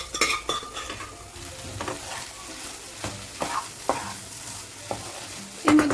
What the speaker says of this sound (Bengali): সব মশলার সাথে আমার আলুটা খুব ভালো করে কষানো হয়ে গেছে